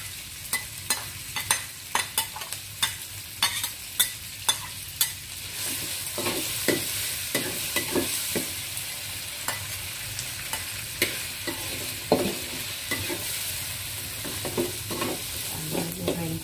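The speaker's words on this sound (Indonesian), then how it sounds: "Kita masukin deh nih sambal goreng kita." Sambal goreng with tuna fries in a pan with steady sizzling, while a spoon or spatula scrapes and stirs in sharp repeated strokes, loud and close, with no talking.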